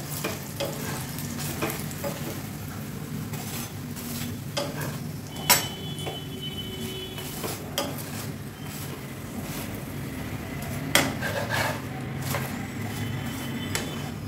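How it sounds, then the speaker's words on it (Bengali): An aloo paratha fries in oil in a pan with a steady, close sizzle and crackle, broken by occasional sharp clicks and scrapes of a spatula, with no voices. "আঁচটা একটু কমিয়ে দিচ্ছি, আরও 1 চামচ দিয়ে দিলাম, দুদিকে 1 চামচ করে দিলাম, তাহলে সুন্দর ভাজা হয়ে যাবে"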